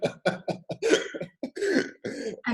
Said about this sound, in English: one person started coughing a lot